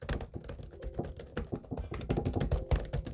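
Hard, fast typing on a computer keyboard resting on a height-adjustable stand, with irregular clattering keystrokes and heavier thunks, close up and with no one talking.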